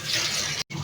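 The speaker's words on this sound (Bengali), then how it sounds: "ডালটা এখন আমি ধুয়ে নেব সুন্দর করে।" Lentils being washed by hand in water give a steady, close rushing and sloshing of water that cuts off briefly near the end.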